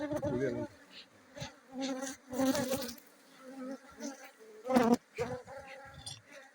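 Honeybees at an opened hive in Yamoussoukro, a close buzzing drone with rising and falling swells as individual bees pass near, no talk.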